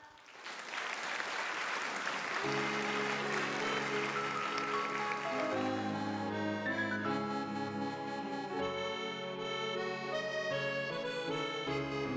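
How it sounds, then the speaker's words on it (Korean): A loud, steady wave of audience applause welcomes a singer onto the stage at a Korean senior singing contest final, and instrumental music swells in beneath the clapping and gradually takes over as it fades. "여러분 멀리서 오신 것만큼 뜨거운 박수로 환영해 주시기 바라겠습니다"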